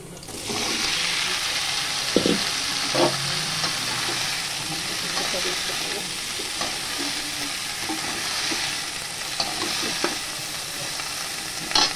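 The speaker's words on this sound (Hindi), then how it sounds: "आलू गोभी अच्छे से धो के काट लिया है अब मैं इसको डाल दूँगी कढ़ाई में" Cut potatoes and cauliflower sizzle and fry in a kadai with cumin, ginger and green chilies, a steady loud hiss lasting throughout, with occasional scrapes and clinks of stirring.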